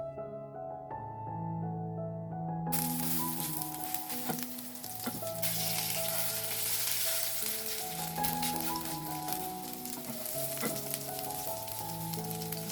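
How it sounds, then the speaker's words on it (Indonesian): Steady oily sizzling of a hamburg beef patty frying in a hot pan, continuous and close, with light music playing over it throughout. "Masukkan hamburg beefnya dan masak kedua sisinya sampai berubah warna."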